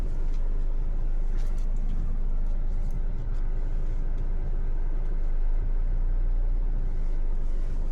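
A Mahindra XUV700 rolls slowly into a parking spot at a roadside tea stop. Its engine and tyres make a steady, loud, low rumble for the whole stretch, with no voices.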